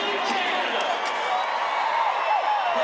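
A rodeo crowd cheers after a bull ride at the 2017 PBR Global Cup bull riding final, a steady broad roar of many voices under a commentator's talk.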